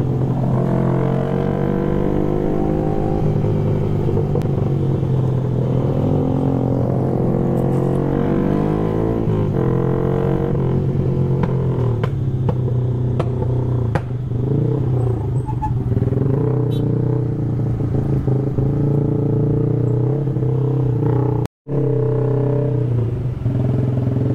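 Motorcycles crowd a busy street on a Saturday night near a gathering spot, a dense loud rumble of engines with repeated revving and passing bikes close by throughout.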